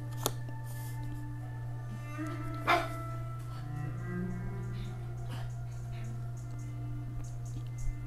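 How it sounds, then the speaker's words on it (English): A dog barks a few sharp times in the distance at an imagined threat, with short isolated yips spaced several seconds apart over a steady low electrical hum in a quiet indoor room. "That's my dog barking at something that's not there"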